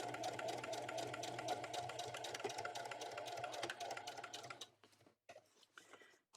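A domestic sewing machine back stitching and top stitching a tote bag, running in a fast, even, rattling stitch rhythm close by for several seconds before stopping, then a few brief taps and clicks.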